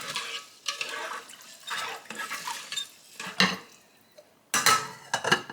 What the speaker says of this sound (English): Give it a little bit of stir.